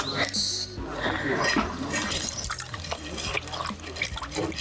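Running water splashes and drips while soil is rinsed off the roots of a neglected, overgrown sonare bonsai being repotted, the steady wash heard under ongoing conversation.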